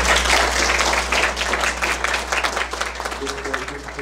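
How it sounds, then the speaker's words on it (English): Audience applause following a call to honor workers, a broad wash of clapping from a crowd lasting the whole stretch, with a voice speaking over it. "I want you guys to give them a round of applause."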